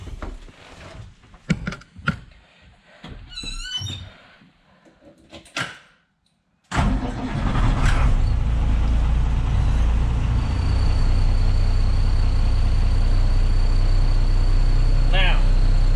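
A heavy vehicle with air brakes comes to life after a few door-like knocks and some talk, then settles into a loud, steady idle with a rising hiss as air pressure builds.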